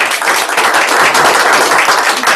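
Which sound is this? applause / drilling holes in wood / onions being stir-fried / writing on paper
applause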